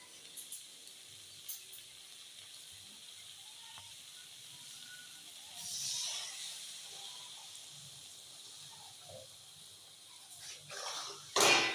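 Water poured into a hot pan of oil-free chicken, giving a soft hiss that rises briefly midway and swells into a louder burst of steam at the end, with faint kitchen movement between.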